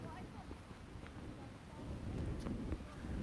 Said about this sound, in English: it's very, very windy right now